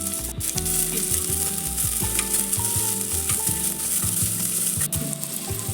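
Chopped onion hits hot oil spiced with whole spices for a home-style chicken curry. A loud, steady sizzle is broken by repeated scraping strokes of a stirring spoon, close up.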